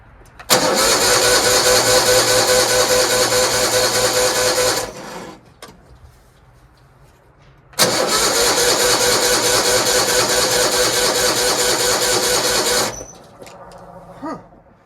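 A Toro 616Z zero-turn mower with a fuel-starvation fault has its engine cranked twice in long, loud starter bursts of about four and five seconds each, with a quiet pause between them and no catch.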